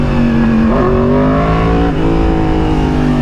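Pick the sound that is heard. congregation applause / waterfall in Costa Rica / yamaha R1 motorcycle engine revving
yamaha R1 motorcycle engine revving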